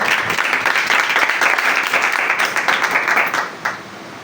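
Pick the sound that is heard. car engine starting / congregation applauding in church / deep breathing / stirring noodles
congregation applauding in church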